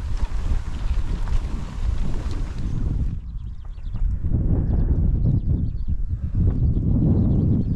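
Strong wind roars and buffets the microphone throughout, with gusts rising and falling and no voices.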